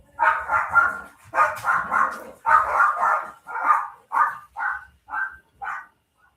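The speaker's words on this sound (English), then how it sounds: "Wow, crazy dogs." Several dogs bark in a rapid, continuous run of loud, close yaps and bow-wows. The barks space out and fade toward the end.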